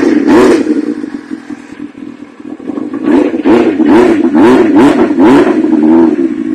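A 1998 Suzuki GSX-R 600 SRAD motorcycle engine revs loud and close, holding a rough idle before a quick series of sharp throttle blips that rise and fall rhythmically, with no voices.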